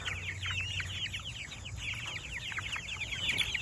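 Cornish cross chickens cluck and chirp continuously at close range, a busy overlapping chatter with a low steady hum underneath.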